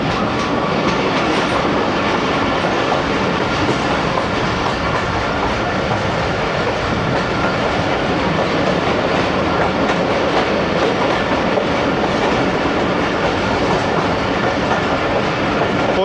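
The Awam Express, a Pakistani passenger train running from Lahore to Peshawar, rumbles through a dark tunnel with a loud, constant roar and rhythmic clickety-clack of wheels on rail, filling the whole stretch without letup.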